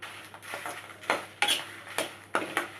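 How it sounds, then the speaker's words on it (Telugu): Dried red chillies fry over low heat in peanut oil in a kadai, a soft sizzle beneath sharp, irregular clinks and scrapes of a spoon against the metal pan. "ఇప్పుడు వీటిలలో మనం ఎండుమిర్చి ఫ్రై చేసుకోవాలి."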